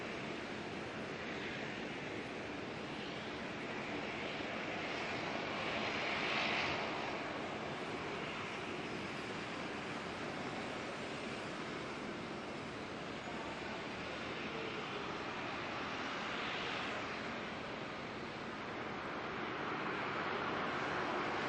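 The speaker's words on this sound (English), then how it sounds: "(737) freighter coming on in from Christchurch." A Boeing 737 freighter arriving at Auckland airport makes a steady, broad jet roar at a distance throughout, with slight swells in loudness and no voices.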